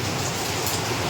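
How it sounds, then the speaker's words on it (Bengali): Heavy rain pouring down during a storm at night, a dense, steady roar of rainfall that stays loud and unbroken for the whole moment, with no voices. "ভালোই জোরে বৃষ্টি নেমেছে গো"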